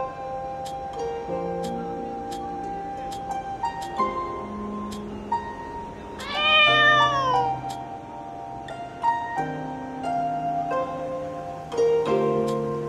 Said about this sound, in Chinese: 这里竟然有只小猫，真可爱。